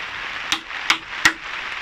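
A hammer's steel head strikes a 50mm chisel three times in quick, even succession, each blow a sharp, close knock into wood while fitting an internal door latch.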